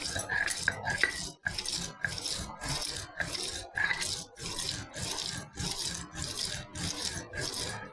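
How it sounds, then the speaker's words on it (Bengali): Giant taro being ground by hand on a traditional flat grinding stone, a steady rasping scrape repeating in regular back-and-forth strokes about once per second, close and fairly loud with no talk over it. "আমি মানকচুটা বেটে নিচ্ছি।"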